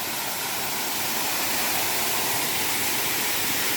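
A forest waterfall roars steadily and loudly, a dense, unbroken rush of falling water that stays constant throughout with no voices.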